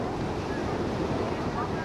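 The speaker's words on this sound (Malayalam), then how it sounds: "ആർത്തിരമ്പുന്ന തിരമാലകളുടെ ശബ്ദം" Roaring ocean waves surging in a steady, dense wash of broadband noise, loud and close, with wind buffeting the microphone throughout and no distinct breaks between breakers.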